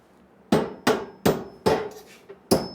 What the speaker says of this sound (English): Probably could go ahead and nail this thing on now.